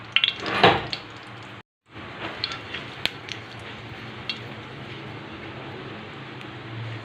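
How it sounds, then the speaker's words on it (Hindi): Food frying in a couple of spoonfuls of desi ghee in a pan on a low flame, a soft steady sizzle with a few louder crackles and utensil clinks near the start and a brief silent break. "और ये है देसी घी, थोड़ा सा डालेंगे, 2 चम्मच, इसको सारी चीज़ों को फ्राई करेंगे।"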